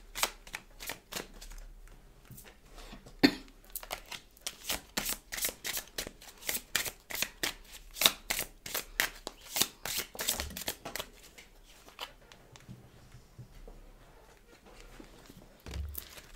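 Tarot cards being shuffled by hand at close range, a long run of quick papery riffles and slaps in an uneven rhythm with no talk over it.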